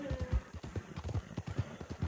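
A horse's hooves clip-clop at a steady trot through a swampy area in Red Dead, each hoof fall distinct and close, with no other sound over them.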